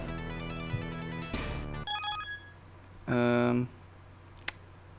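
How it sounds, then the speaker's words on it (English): A short phone notification chime rings out clearly over retro game music from a Genesis Teenage Mutant Ninja Turtles playthrough, a bright tonal burst lasting about half a second amid other game sounds. "Sorry, I got a notification here."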